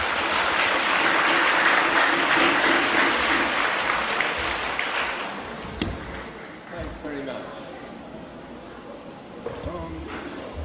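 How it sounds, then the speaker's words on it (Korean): A lecture audience applauds loudly and densely for several seconds, then the clapping thins and fades as a voice begins speaking over a quieter room. "큰 박수 부탁드립니다."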